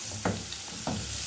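Dried fish fries in a pan with a continuous faint sizzle, and two brief stirring scrapes punctuate it.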